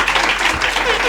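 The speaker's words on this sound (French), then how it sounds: "Le public applaudit pour lui" Brief burst of audience applause at a televised variety show for a male performer, dense clapping under music with a thick crowd wash throughout.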